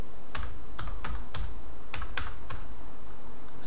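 Quick bursts of keystrokes on a computer keyboard, several uneven clusters of clicky taps close up, with no voice over them.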